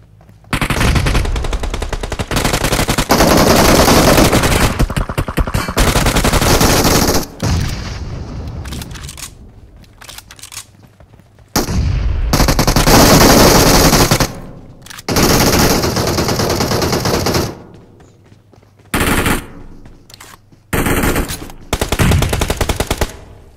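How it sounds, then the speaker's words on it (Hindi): Gunfire in PUBG Mobile at close range: loud, rapid automatic bursts come in several long clusters separated by short quiet gaps, with occasional single heavy shots and no voices. "सामने किसी पे शॉट कर रहा है"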